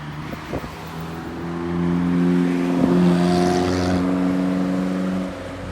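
Ferrari sports cars pass close by, their engines swelling into a loud, steady harmonic roar, then fading away.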